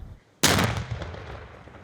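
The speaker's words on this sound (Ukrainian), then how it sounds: "На Ізюмщині час від часу лунають вибухи" Found munitions are destroyed by demining crews in the Izium area, heard as a single sharp, heavy blast that breaks a quiet moment and trails off in a long rumbling echo.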